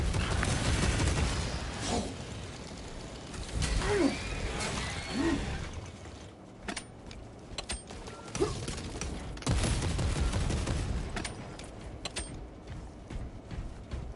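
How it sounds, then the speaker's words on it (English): Bolter guns firing in the Space Marine 2 video game, bursts of loud rapid gunfire with booms and mechanical clatter, easing into scattered sharper shots and thuds toward the end. "I love how inaccurate the bolter is as well."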